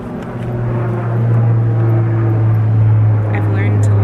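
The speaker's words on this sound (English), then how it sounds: "I've learned to love the sound of planes because they are always interrupting me." An airplane passes overhead with a steady low drone that swells from about half a second and stays loud and sustained to the end, heard alone without talk.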